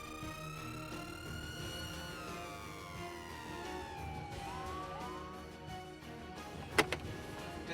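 An ambulance siren wails steadily through the whole stretch, its rising and falling tone sitting over a busy background rumble, with a brief sharp burst near the end.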